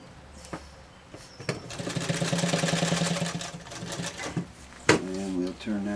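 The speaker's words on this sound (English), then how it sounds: "I'm going to double sew it, so it'll be all right." A sewing machine double-stitches a small tinder bag, its needle running in a fast, even rattling burst of a few seconds between quieter clicks and handling, with a brief voice near the end.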